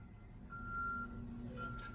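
A reversing truck's backup alarm, heard outdoors as an owner-operator's truck sits nearby, gives two steady high electronic beeps at a moderate distance over a low engine rumble.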